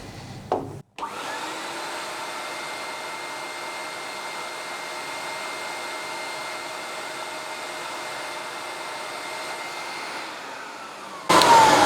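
A Camvac dust extractor runs on a single motor, a steady loud whine and rushing airflow that holds unchanged for about ten seconds after a brief stutter at start-up.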